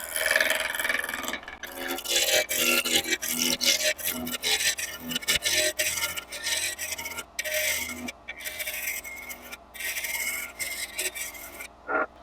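A birdcage awl carves into wood with repeated rasping, scraping strokes in a workshop, loud and close, broken by short pauses between cuts.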